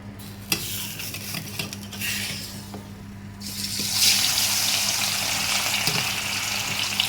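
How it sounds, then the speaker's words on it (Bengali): Pieces of katla fish hitting hot mustard oil in a pan, a faint sizzle rising into a loud, steady hiss of frying close by after a few seconds, with light clinks of utensils earlier. "তেলটা ভালো করে গরম হয়ে গেলে মাছগুলি এক এক করে ভেজে নিব।"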